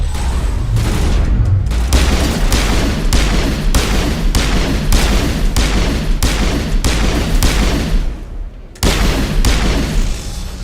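Sustained firefight in the video game Mass Effect, with dense, loud bursts of gunfire and booming shots repeating in a steady rhythm, plus a brief pause near the end before the shooting resumes.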